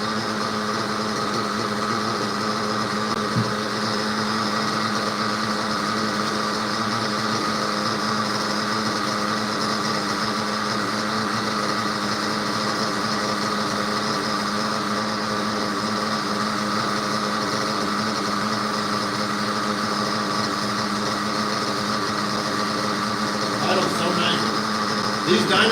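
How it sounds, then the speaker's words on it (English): A nitro RC car engine with a dual fuel filter setup and Dynamite Platinum pipe runs steadily at a high-pitched whine throughout, fairly loud and unbroken, with a brief rattle near the end. "This engine's so good on fuel."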